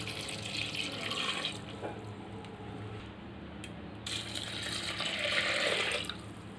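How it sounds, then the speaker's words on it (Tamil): Water pours into a pressure cooker of rice for vegetable pulao in two separate streams, splashing and gurgling steadily with a short pause between them. "அரிசி அளந்த டம்ளர்லேயே நான் 2 டம்ளர் தண்ணி சேர்த்துக்கிறேன்."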